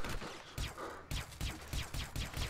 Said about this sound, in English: Why is that guy shooting that way for?